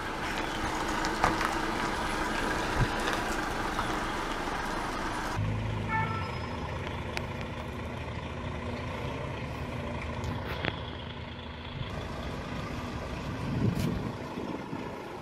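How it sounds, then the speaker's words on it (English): An oversized load truck hauling a 35-meter wind tower section rumbles past at steady volume, its engine drone continuous with a few brief mechanical clanks and a passing shift in tone midway. "This oversized load truck is carrying 35-meter wind tower passing Larfurt by Dame."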